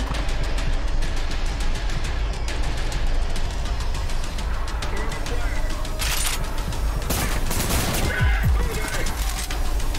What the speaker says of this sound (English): Let me get my SMG back.